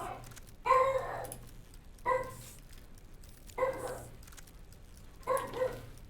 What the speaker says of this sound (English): Any barking in the background again.